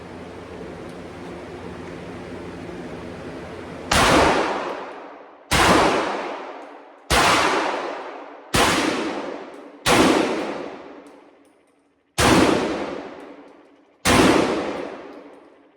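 A Benelli M4 shotgun fires slugs and 00 buckshot at an outdoor range. Seven loud, sharp blasts come at roughly regular intervals after a stretch of steady background noise, and each shot rings out and decays before the next.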